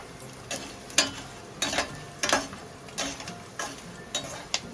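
Edible gum (gond) being roasted in a pan with a spoon, a close scraping stir repeated in regular strokes about every half second over a faint background sizzle.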